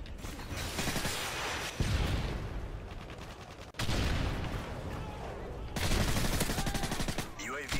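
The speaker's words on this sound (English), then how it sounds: "Where the fuck am I getting shot from?" Heavy gunfire in a Call of Duty: Modern Warfare 3 online match, dense rapid automatic bursts and rattling mechanical clatter that run almost without a break, loud and close, with brief shifts in intensity.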